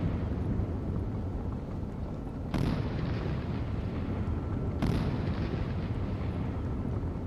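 Naval guns firing in the Sea Power video game during a Strait of Hormuz scenario, two heavy booming shots a couple of seconds apart over a constant low rumbling background.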